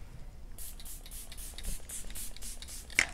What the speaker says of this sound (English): I'm gonna spray my face using the Morphe Luminous Setting Spray